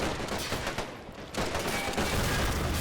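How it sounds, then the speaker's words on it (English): Dense gunfire from 2-pounder guns and small arms in the video game Men of War: Assault Squad 2, a German Afrika Korps attack on an Australian defensive line, as a continuous loud crackling fusillade with overlapping shots and no pauses. "being targeted by our 2-pounders and small arms"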